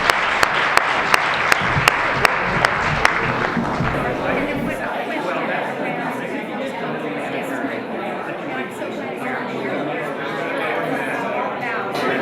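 Applause from an audience for the morning speakers at a conference on gender equality in the workplace, opening with a few sharp, distinct claps before swelling into a full, steady round mixed with crowd chatter.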